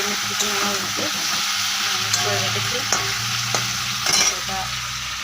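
Meat frying and being stirred in a pan in a home kitchen, a steady close sizzle with soft scraping clinks throughout and a few sharper spatters near the end.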